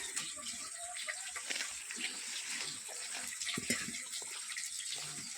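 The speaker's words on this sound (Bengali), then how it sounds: "হলুদ গুঁড়ো একটা বাটিতে একটু জল দিয়ে গুলে পরে" A little water is poured into a bowl of turmeric and coriander powder for a chicken legs recipe, making a faint, continuous trickling and splashing that holds steady throughout.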